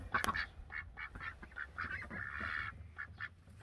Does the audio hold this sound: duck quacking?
yes